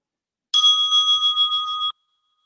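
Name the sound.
meditation closing bell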